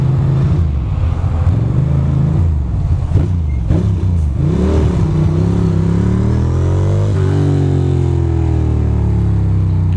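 A motorcycle rides through Brooklyn streets on a freezing cold New York City commute. Its engine drones loud and close throughout, with pitch rising and falling as the bike accelerates and shifts.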